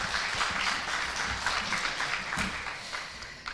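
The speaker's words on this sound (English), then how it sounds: "let's hear the round of applause for Corina Vasile" An awards ceremony audience at a business services forum in Bucharest breaks into applause, a dense, steady roar of many clapping hands that holds evenly and fairly loud from start to finish, with no voices over it.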